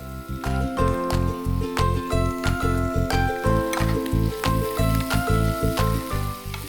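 Capsicum and green vegetables fry with rice in a hot pan, a steady sizzle broken by rhythmic scraping and tapping of a spatula against the metal, close and busy, under faint background music.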